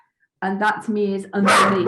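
A dog barks in the background during an online call, a couple of short yips and barks mixed under and between a man's speech.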